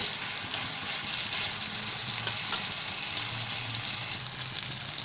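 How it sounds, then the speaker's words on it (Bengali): Tomatoes frying in a pan for a papaya and poppy-seed dish, giving a steady, fairly faint broadband hiss and crackle that holds evenly throughout, with a low hum underneath and no talking. "টমেটোটাকে একটু মজতে দিতে হবে।"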